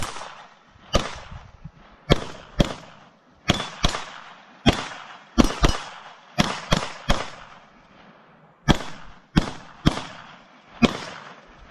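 Pistol shots from bulk-pack .22 ammunition mixed with Thunderbolt rounds, fired at an outdoor range during a budget handgun shootout: sharp, loud cracks in uneven groups of two and three, about fourteen in all, with no talking.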